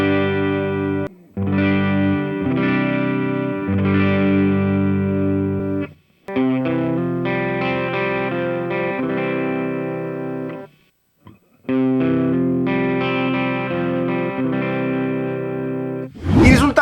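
Electric guitar played through a Laney Cab Super Top amp set clean at the edge of break-up, compared with a Hotone Ampero 2 profile; sustained strummed chords ring loud in three long passages with brief gaps between, no talking.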